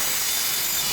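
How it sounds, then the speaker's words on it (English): A Milwaukee cordless jigsaw cuts steadily through metal for a turbo intake fabrication, a loud continuous buzzing rasp filling the whole moment with no pauses. "Here I am again with the Milwaukee Jigsaw"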